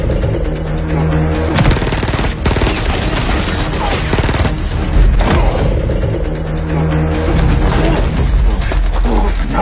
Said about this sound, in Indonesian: Adu tembak berlangsung dengan sangat sengit.